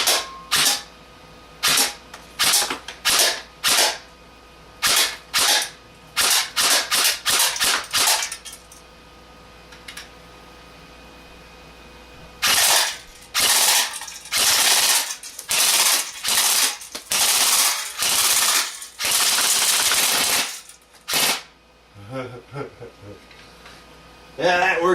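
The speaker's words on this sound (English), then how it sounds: "this is my G&G AK-47 with old-fashioned iron sights" A G&G AK-47 airsoft rifle running on a Venom LiPo battery, firing sharp single snaps and quick bursts of rapid mechanical cracks, loud and close, with pauses between strings of shots.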